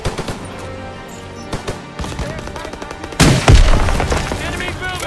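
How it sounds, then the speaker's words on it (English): Rapid machine-gun bursts and booming gunfire in the World War II shooter Call of Duty: WWII, loud and dense, swelling heavier near the end, with shouting voices mixed in. "they need cover fire! Suppressive fire! Keep firing!"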